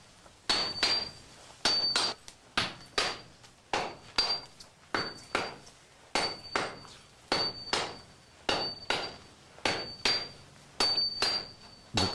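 A hammer strikes a Japanese katana blade during traditional forging and shaping, ringing out in sharp, metallic blows, often in close pairs, repeating at a steady working rhythm, nearby and clear with no talk.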